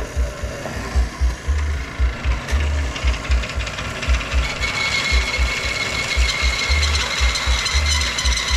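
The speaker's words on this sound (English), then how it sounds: "time to use the old metal bandsaw here" An old metal bandsaw cuts clamped metal scrap for a bench grinder stand, giving a steady grinding, rasping drone with a rhythmic low thumping that builds louder and brighter partway through.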